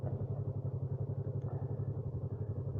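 A Yamaha MT-03 motorcycle sits in neutral, its engine idling with an even, close, rhythmic low thrum and a faint mechanical clatter, with no talk over it.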